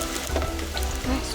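Fish sizzles steadily in a small pot with a little water, cooked for a fish with spinach dish, a close, continuous frying hiss with faint stirring clicks and no talking.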